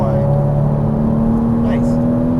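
A Porsche Cayman S engine accelerating on a race track, heard from inside the car as a loud steady drone with a rising tonal whine, while a voice speaks over it.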